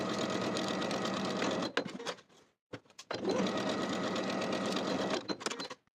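A sewing machine runs steadily while stitching the side seams of pleated pants, stops briefly for about a second, then runs again at the same close, even speed.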